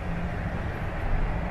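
Inside a Toronto Line 4 Sheppard subway train, a steady, loud rumble and rolling drone from wheels and car body fills the cabin with no voices.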